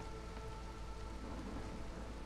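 Steady heavy rain with low rolling thunder in a stormy weather scene from the video game Against the Storm, a dense continuous wash of sound with no voices.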